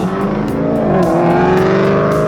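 A loud car engine with a loud muffler roars close by in Clearwater, Florida, a steady throaty rumble with a slight rise in pitch as it revs.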